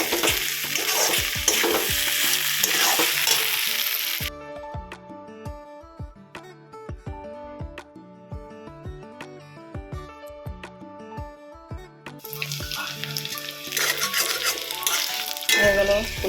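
Cauliflower fritters deep fry in hot oil with a loud, bubbling sizzle at the start and end; a tuneful musical passage takes over in the middle stretch.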